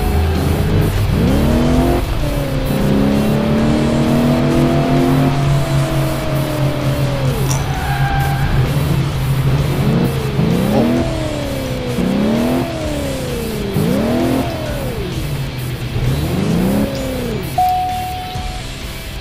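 Car engine revving in the racing video game Alarm für Cobra 11: Das Syndikat, with rising and falling gear-change pitches and a brief tire squeal, loud and continuous over steady game background noise.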